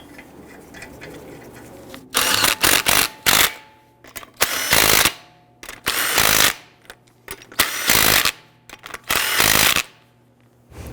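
A power tool snugs the lug nuts on a 2011-2019 Ford Explorer wheel during a front brake job, sounding as loud, close, repeated rattling bursts of about half a second to a second, separated by short pauses.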